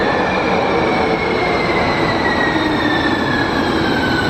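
A San Francisco Muni Metro subway train rumbles steadily through a tunnel, loud and continuous, with a high metallic whine from the wheels above the roar.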